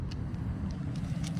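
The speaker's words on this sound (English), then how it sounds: "That's a Porsche." A Porsche car gives a steady, smooth low engine and road rumble at moderate distance, with no talking.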